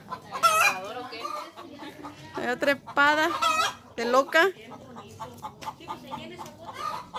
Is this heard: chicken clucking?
yes